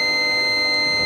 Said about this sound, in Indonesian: Biasanya ada alarm seperti ini.